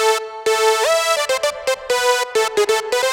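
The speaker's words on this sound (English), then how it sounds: "today I'm going to be showing you how to make this sort of a lead sound right here." Layered synth lead built from Harmor and 3xOsc played an octave up, a bright buzzy melodic line of short and held notes with pitch glides, clean and alone.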